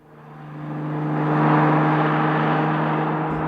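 A 2001 Porsche 911 Turbo drives past, its engine building from quiet into a loud, sustained whirring drone with a steady tonal hum that peaks midway and holds, with no voices.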